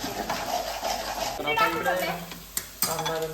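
Food sautéing in a pan in a home kitchen, steady sizzle and stirring scrapes throughout, with a couple of sharp utensil knocks near the end and a voice talking faintly underneath.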